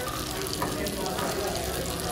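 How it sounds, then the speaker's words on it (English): Filet mignon sizzles on a hot plate at a Las Vegas restaurant, a dense, continuous crackling hiss heard up close against busy dining-room background noise. "This is the filet mignon, and it's sizzling."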